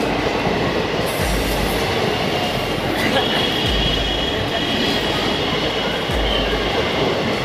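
Gaya Howrah Express train running with a loud, steady rumble of wheels and carriage noise throughout, with occasional low thumps of the cars over rail joints.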